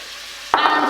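Chopped onions and peppers hitting a hot pan for a Cajun pasta sauce, a sudden loud sizzle that bursts in and holds steady.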